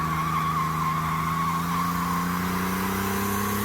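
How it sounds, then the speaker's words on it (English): A lifted Camaro on nitrous does a burnout, its engine howling steadily with a rising pitch as the tires squeal continuously, loud and close with no talking. "You can do a burnout in a lifted Camaro on nitrous"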